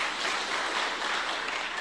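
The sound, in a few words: applause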